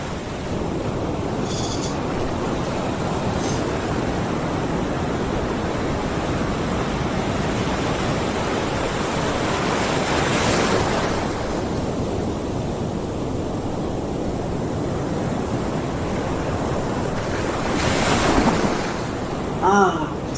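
Ocean waves played as a relaxation recording, a continuous broad roar of surf washing in and out, loud and enveloping for the full stretch with slight swells, and no voices over it.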